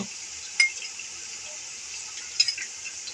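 Capsicum and ginger paste stir-fried in a pan for fried rice: a steady, bright sizzle runs throughout, broken by a couple of light clinks and scrapes of a spoon against the pan.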